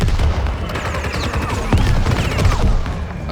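Gunfire in Xenoblade Chronicles X, a dense, loud run of rapid shots and booming impacts that continues throughout, with almost no speech.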